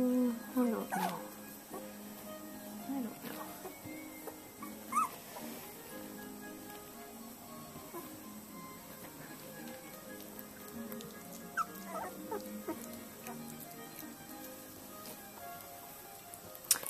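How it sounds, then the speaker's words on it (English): A little puppy whimpers and lets out a few soft yips, faint and scattered, with people talking quietly nearby. "Next to him is a little puppy."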